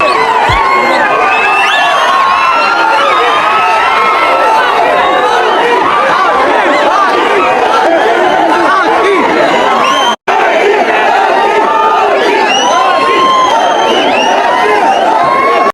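A large crowd of fans shouts, cheers and chants loudly and continuously, with many overlapping voices and whoops, close and dense, broken by one brief cut.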